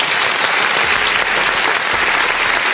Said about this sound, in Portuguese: Uma salva de palmas aí pra Camila Foresto